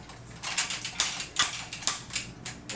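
Close, crisp ratcheting clicks come in a rapid irregular series as the shoulder armor pieces of a Hot Toys Movie Masterpiece Series 285 Hulkbuster figure are moved, with no talking.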